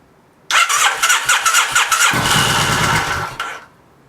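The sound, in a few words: old engine cranking and starting after 22 years in shed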